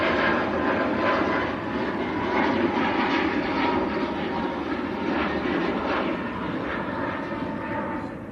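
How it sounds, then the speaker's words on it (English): A Ryanair Boeing 737 MAX bound for Milan from Manchester Airport produces a loud, continuous jet engine roar with slight pulsing that fades a little at the very end. "That's Ryanair to Milan, the 738 MAX, India Juliet Romeo's the reg."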